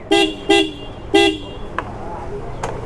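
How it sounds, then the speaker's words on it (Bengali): A newly fitted horn on a mud-caked motorbike gives three short loud honks in quick succession, followed by fainter clicks and distant road noise. "নতুন একটা হর্ন সেট আপ করা হয়েছে এই হর্নটার সাউন্ডটা আমার কাছে খুব একটা বেটার লাগে নাই"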